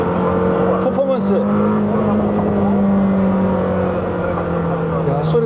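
A Lamborghini Temerario engine in Corsa mode drones steadily at high revs, loud and close, with a sharp, sustained tone and faint whooshes over the top.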